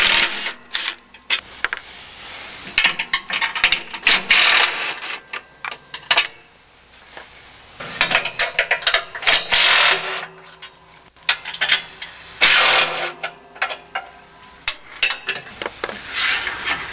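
A hand ratchet loosening bolts on an AWS Airbar impeller housing, bursts of close, loud rasping clicks separated by short pauses, repeating unevenly over several turns with no speech.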